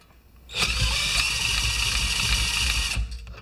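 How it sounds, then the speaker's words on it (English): A homemade motor runs steadily for a few seconds, a loud continuous mechanical drone with a buzzing whine that starts abruptly and cuts back down near the end, close by and with no talking. "Now let's turn off the engine like it was supposed to be turned off."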